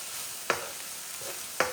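Cabbage being stirred into quinoa in a sizzling pan, with a steady frying hiss and two distinct scraping strokes of the spoon, close and alone.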